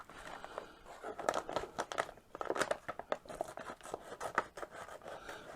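A pair of scissors cuts through material in a run of crisp, close snips and crinkles, irregular and repeated over several seconds.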